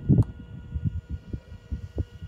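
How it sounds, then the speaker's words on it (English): Pumps on a 2013 Toyota RAV4 EV running with a soft, pulsing low hum and a faint steady whine, close and quiet, with no voices. "you can hear the pumps are humming nicely."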